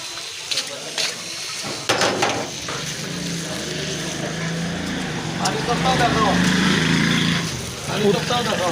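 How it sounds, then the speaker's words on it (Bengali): Water poured from a jug into a large pot for cooking khichuri rice, a continuous splashing gush that builds and fades, with a person talking over it. "তো আমি 4 জগ পানি দেবো।"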